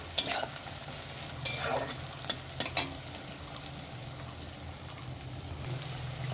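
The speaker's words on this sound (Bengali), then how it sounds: "দেখো বন্ধুরা আমার ভাজা হচ্ছে" Tomatoes salted in a hot pan sizzle steadily while a spatula stirs them, giving a few close scraping knocks early on over a constant soft frying hiss, with no talking.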